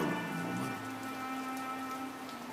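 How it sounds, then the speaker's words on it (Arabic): Steady rain falls and patters densely on surfaces, a continuous close hiss of drops without a break, with no one speaking. "مطر"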